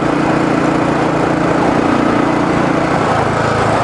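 Royal Enfield motorcycle engine thumping steadily while riding, a dense continuous putter with wind rush, loud and close with no talk.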